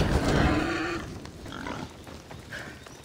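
A pig in the game Assassin's Creed Odyssey gives a loud, close grunting squeal at the start, followed by quieter snorts and grunts, with no talking.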